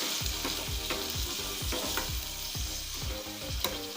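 Spice masala for chana masala fries in oil over a low flame, a steady close sizzle with repeated scraping stirs of a spoon against the pan, no voices.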